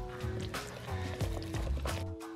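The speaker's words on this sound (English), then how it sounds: "I am adding in a couple of tablespoons of water because I use sugar-free chocolate." A couple of tablespoons of water go into sugar-free keto chocolate cake batter, giving several short liquid splashes and drips close by over a faint low hum, with no talking.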